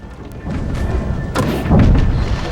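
Shots fired in the video game Jak and Daxter: The Precursor Legacy land as dull, booming thumps, a few heavy impacts in quick succession over a low rumbling background.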